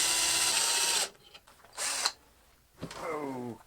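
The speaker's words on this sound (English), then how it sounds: "I'll drill there first" A drill fitted with a Forstner bit bores into wood for a stool. It whirs in three loud bursts with short quiet gaps between them, and the last burst rises in pitch.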